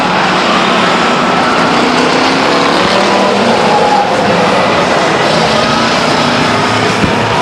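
A pack of race cars at Stockton 99 Speedway accelerates hard at the start, a dense, loud, continuous engine roar filling the whole stretch with no pauses.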